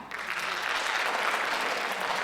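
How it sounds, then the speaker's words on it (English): Steady applause from a large crowd at a school district centennial celebration, continuous dense clapping at a moderate level with no pauses. "please clap"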